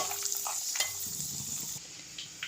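Ingredients frying lightly in hot oil for a sundakkai vathal kuzhambu, a steady close hiss of sizzling with a couple of soft utensil taps, no voices.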